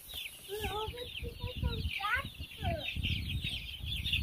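Baby chicks peep and hens cluck inside a warm brooder packed with hundreds of chicks. Steady, busy chirping fills the space close up, with children's and an adult's voices talking over it.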